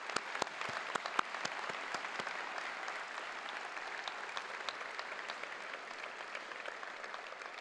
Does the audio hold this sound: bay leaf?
no